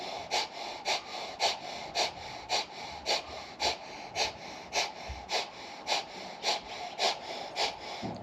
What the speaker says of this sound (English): Really powerful breathing for the last 10 seconds.